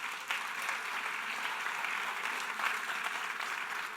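Church congregation applauding at a sermon, a dense steady wash of many hands clapping together, fairly close and continuous throughout without pause.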